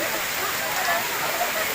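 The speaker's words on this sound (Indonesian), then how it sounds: "Lagi hujan jadi tidak bisa melanjutkan perjalanan." Steady rain falls during a stop on a trip to a mangrove tourist area, a dense broadband hiss like heavy downpour or running water, continuous and fairly loud for the whole stretch.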